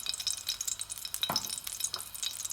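A spoonful of ghee melts in a pan, giving a soft, steady crackling sizzle with scattered tiny pops and a faint stir, close by and alone.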